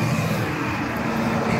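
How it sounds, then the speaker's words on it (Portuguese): Massey Ferguson 275 Advanced tractor with a new Perkins engine running, a steady loud diesel drone with no change in pitch, heard close up and alone. "Esse aqui é aquele motor Perkins novo"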